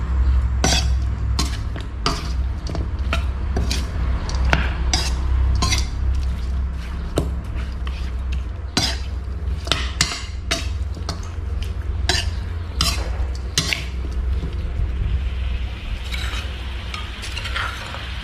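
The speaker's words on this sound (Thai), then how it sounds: "ขัวเครื่องให้มันหอมก่อน" Spices and aromatics sizzle and scrape in a pan for a Thai pork cartilage and fresh bamboo shoot soup as a utensil clinks and stirs repeatedly, a steady frying hiss underneath, close and busy.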